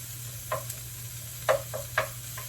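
Onions cook in a pan over a low steady sizzle, with several short scraping stirs from a utensil punctuating it close by, and no one speaking.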